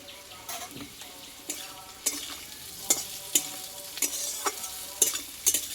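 A metal spatula stirs and scrapes half-mashed potatoes frying in a pan with fennel seeds, making repeated close scraping clacks and bursts over a steady low sizzle, with no talking.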